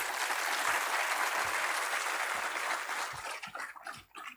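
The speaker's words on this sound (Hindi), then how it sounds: "तालियों की गड़गड़ाहट के साथ हमारा मनोबल बढ़ाने के लिए" An audience at a school literacy day program claps in a steady, dense roar of applause that thins out near the end into scattered claps.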